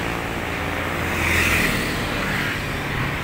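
Steady road traffic on the C5 Extension, a continuous broadband wash of passing vehicles with a slight swell midway, no voices.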